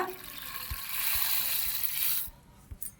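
A steady hissing pour of arua rice into a steel pot of water runs for about two seconds, then stops, leaving a few faint knocks and clinks.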